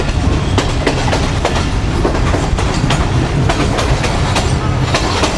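New Sukkur Express train rolling into Road Junction railway station, a loud, steady rumble with repeated clickety-clack wheel beats over rail joints, heard up close from inside, with no talk.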